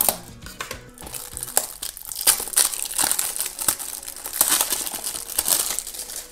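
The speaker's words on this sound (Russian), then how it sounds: "Давайте сразу еще одну коробочку откроем." A Kinder Surprise-style toy box and foil wrapper being opened, heard as close, busy crinkling and crushing of thin packaging with irregular sharp rustles throughout.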